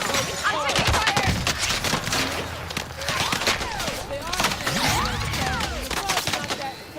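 Heavy video-game gunfire in a war-game firefight rattles in dense overlapping bursts and single cracks aimed at the player, loud and near throughout, with voices talking over the shooting.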